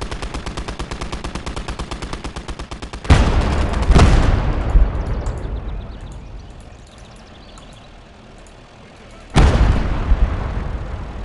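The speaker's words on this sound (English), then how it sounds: "we've got the anti-tank guns and the artillery working on this" Artillery and gunfire in the World War II strategy game Gates of Hell, with rapid machine-gun bursts giving way to several loud, close booming blasts whose rumble decays between hits.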